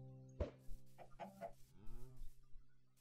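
Minecraft chickens clucking, a few short quiet clucks and squawks spaced irregularly over a faint steady background hum.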